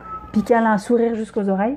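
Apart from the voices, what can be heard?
cat going wild, making a strange noise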